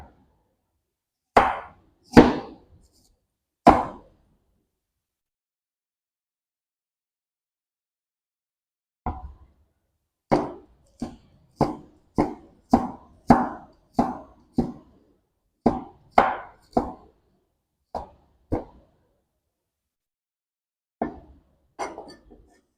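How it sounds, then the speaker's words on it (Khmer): A knife cuts galangal root into thin slices, then small pieces, on a board. Three crisp chops come first, then a pause, then a quick, even run of about a dozen close taps and two final cuts. No one speaks. "ចំពោះគល់រំដេងគឺខ្ញុំហាន់វាស្ដើងបែបនេះបន្ទាប់មកគឺខ្ញុំហាន់វាជាចំណិតតូចៗបែបនេះ"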